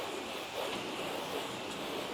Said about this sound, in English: The annoying thing is a lot of it's blowing away because it's really windy at the moment.